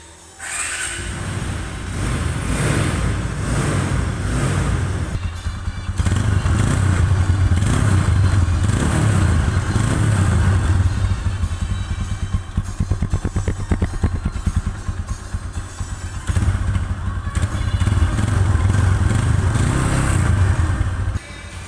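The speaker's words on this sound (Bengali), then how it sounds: "বাইকটির যদি সাউন্ড কোয়ালিটি আপনাদেরকে দেখাই তাহলে বুঝতে পারবেন বাইকটির কন্ডিশনটা কীরকম।" A matte red TVS Apache RTR 2V motorcycle idles and revs steadily up close, its engine running continuously with a smooth, even drone and a light mechanical clatter, with no talking.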